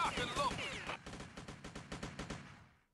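Automatic gunfire in the game Abomination: The Nemesis Project, a steady rapid string of shots at moderate level for several seconds, with a brief warbling noise at the start before the shots settle into an even rhythm.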